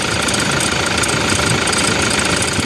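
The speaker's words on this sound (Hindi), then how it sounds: "यहाँ से झुनझुन झुनझुन करके साउंड आ रहा है" A Toyota Fortuner engine idles with a steady rough, jingling rattle blamed on an alternator problem, loud and close throughout with no talk.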